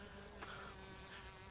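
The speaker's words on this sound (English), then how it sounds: "Please, look at that bee!" A bee buzzing around flowers in a front garden, a steady, fairly faint insect drone with slight rises as it moves closer.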